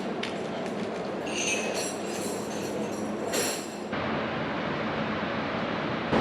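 Steady hum of the large Seville Santa Justa train station hall, with broad rumbling noise and a brief high metallic squeal partway through, no clear voices.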